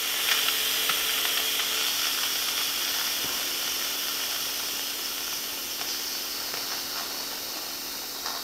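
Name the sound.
Instant Pot pressure release, steam hissing out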